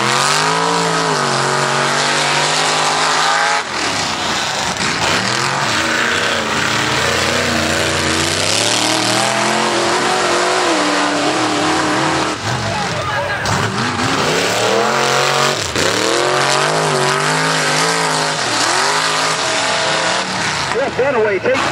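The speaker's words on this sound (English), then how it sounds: "These one-ton guys are probably the fastest trucks out there on the market right now." One-ton Ranger and Jeep trucks race through mud at a mud ranch, their engines roaring loudly and continuously with rising and falling revs and a commentator talking over them.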